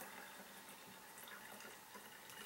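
Water pushed through a Sawyer Mini water filter, a faint, steady trickling flow with light splashy texture, quiet and continuous, ending on a small bump.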